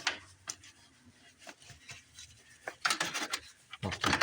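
A 3/8 ratchet with a 10 mm socket and extension turning a nut on a car battery terminal, a series of quiet, close clicking and rasping bursts at an uneven rhythm.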